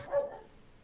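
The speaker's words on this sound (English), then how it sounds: "And the dog's barking." A dog barks once, faint and distant, from a backyard, a single muffled bark early on followed by quiet room tone.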